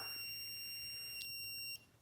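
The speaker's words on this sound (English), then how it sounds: "we have our buzzer, which makes noise when there's a fire" A small piezo buzzer on a breadboard fire-alarm circuit emits a continuous high-pitched electronic tone, faint but steady, then stops abruptly near the end.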